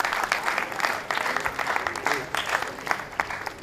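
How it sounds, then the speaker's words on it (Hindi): Dense, steady applause from a sizable theatre audience, many hands clapping at once with sharp overlapping claps throughout. "जोरदार तालियां प्लीज"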